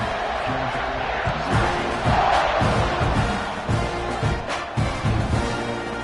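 Football stadium crowd at a home-team game cheering steadily as the home side leads 27-0 in the first half, a dense continuous roar with swelling shouts and whoops throughout.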